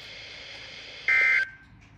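Emergency Alert System tone after a flood warning in Leesburg, Virginia: a short, loud, steady electronic beep lasting about a third of a second, heard over faint background hum.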